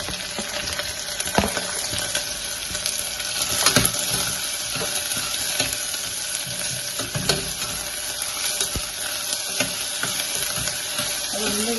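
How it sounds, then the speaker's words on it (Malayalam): Shallots and curry leaves sautéing in a pan as the base for a Kerala-style green peas curry: continuous crackling sizzle with occasional sharp stirring clicks and scrapes, close and moderately loud, no speech. "കരിവേപ്പിൻ്റെ ഇല എടുത്തിട്ട് ഇത് മൂന്നും കൂടി ആദ്യം നമ്മൾ വഴറ്റുക"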